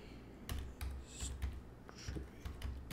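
Quiet clicks of keys on a computer keyboard as a username is entered, a short, uneven run of soft taps close to the microphone.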